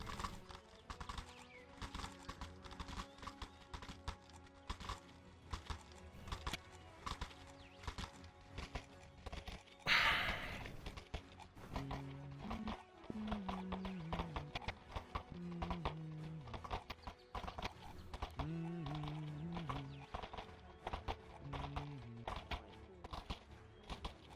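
Horse-drawn carriage with hooves clip-clopping in a steady, regular rhythm throughout, a short burst of noise midway and melodic tones playing over the hoofbeats.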